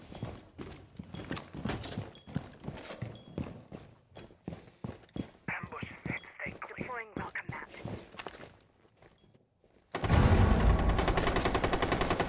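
Gunfire in Rainbow Six Siege, rapid bursts of shots and impacts at close range followed by a loud sustained blast of noise, with a player's voice speaking over the action.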